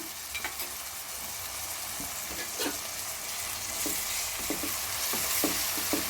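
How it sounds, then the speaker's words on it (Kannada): Garlic ginger paste and turmeric fry with tomato for chicken biryani, giving a moderate, steady sizzle punctuated by repeated spoon scrapes and taps against the pan; nobody speaks. "ಸ್ವಲ್ಪ ಎಲ್ಲ ಗಮ್ಮತ್ತ ಫ್ರೈ ಆಗಬೇಕು ನೀಟಾಗಿ. ಹಸಿ ಸ್ಮೆಲ್ ಹೋಗಬೇಕು ಬೆಳ್ಳುಳ್ಳಿ ಶುಂಠಿ."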